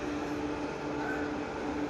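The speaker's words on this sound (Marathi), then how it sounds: "या ठिकाणी आलेलो आहे आपल्या रेल्वे स्टेशनला" Ambience at a railway station with a train, a steady rumbling hum of rail noise that stays level and continuous for the whole stretch.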